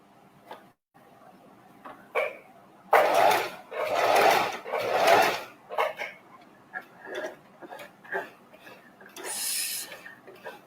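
A sewing machine stitches one fabric onto another in short bursts of rapid mechanical chattering, close up, separated by pauses, quiet clicks and handling sounds.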